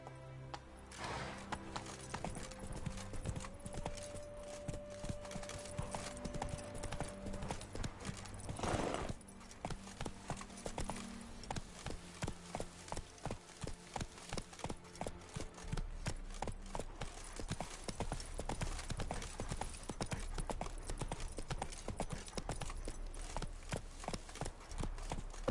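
Geralt's horse Roach gallops in The Witcher video game, its hooves drumming a fast, steady clip-clop that stays close and prominent throughout, with a short whinny partway through.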